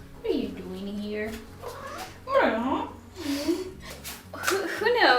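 A cat meows repeatedly at close range, several drawn-out, wavering cries separated by short pauses.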